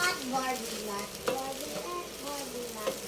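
Leftover fried rice frying and being stirred in a pan for breakfast, a continuous soft sizzle with scraping stirs and a couple of sharper clicks of the utensil, under a voice that talks throughout.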